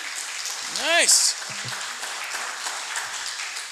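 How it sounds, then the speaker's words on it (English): Audience applause for Dr. Babb at the opening ceremony of a reading clinic: a moderate wash of clapping runs through the whole stretch, with a brief rising whoop near the start and a short spoken word from someone nearby. "Give her another round of applause"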